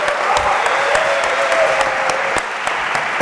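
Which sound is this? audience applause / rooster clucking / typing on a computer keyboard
audience applause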